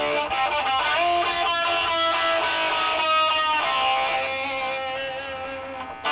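Metal music played live with a delay effect switched on, a dense, distorted tone with rhythmic repeating echoes pulsing steadily, then thinning out near the end.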